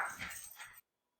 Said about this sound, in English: let me apologize for the barking dogs.